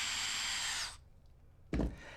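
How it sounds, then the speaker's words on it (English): A power drill bores through aluminum sheet held on a template for rubber hydroforming, a loud steady high whine for about a second, then silence and a brief low bump. "And then just drill the second hole."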